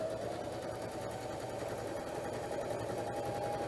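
Janome Sewist 709 sewing machine stitching along a zipper, a close, even mechanical whir that runs continuously and quietly throughout, no voices.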